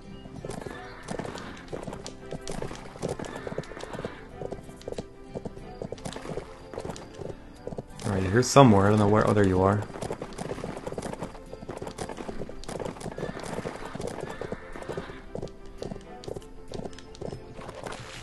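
A horse clip-clops at a steady rhythmic trot in the Bibi & Tina horse farm video game, with a loud neigh midway, while someone talks over the hoofbeats.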